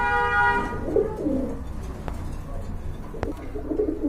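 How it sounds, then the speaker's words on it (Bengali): A pair of Giribaz pigeons, male and female, give low rolling coos close by, following a brief horn-like tone at the start, with steady background noise throughout. "আর এখানে এক জোড়া কবুতর রয়েছে গিরিবাজ সুন্দরী গিরিবাজ"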